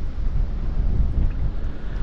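Wind gusts across an open outdoor spot by gravel banks during yabby fishing, a steady low buffeting roar hitting the microphone throughout with no voices.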